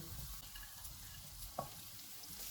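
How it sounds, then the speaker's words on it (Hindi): Soft, pitted, chopped dates roast over a low flame while being stirred in a pan for a dry fruit laddu. A faint, continuous sizzle with light scraping stir strokes and one small clink. "चूल्हे को कम ही रखेंगे, इनको 3 से 4 मिनट तक भूनेंगे।"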